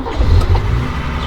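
A 1968 Mercedes-Benz 280SL Pagoda, originally a European-spec car with a four-speed manual, gives a steady, close, loud engine rumble with a slight surge partway through the brief moment.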